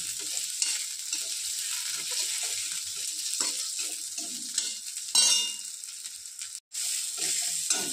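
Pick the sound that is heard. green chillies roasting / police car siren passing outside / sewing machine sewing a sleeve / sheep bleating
green chillies roasting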